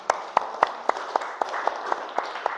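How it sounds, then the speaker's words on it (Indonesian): A small group claps in a steady rhythm, about ten distinct claps over a soft background murmur, fairly close. "Tepuk tangan untuk kelompok 5."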